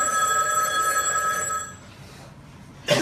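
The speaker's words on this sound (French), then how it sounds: "Il y a quelqu'un qui vous appelle." Telephone bell rings with a bright, harmonically rich trill for about a second and a half, then fades into quiet room tone before a brief noisy burst at the end.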